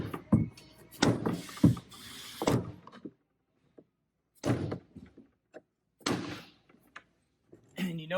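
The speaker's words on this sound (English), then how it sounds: "Take your crowbar and mallet and lock it down." A crowbar and mallet lock down the fuel tank sending unit on a 52-gallon replacement tank for a 2014-20 Ram 2500 Cummins 6.7L, with several loud separate thunks and metallic knocks spaced apart by silence.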